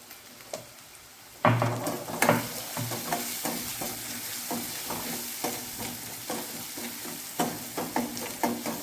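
Onions sizzle and fry in a pan with turmeric and salt, with steady crackling and repeated stirring scrapes that grow louder after a quiet start.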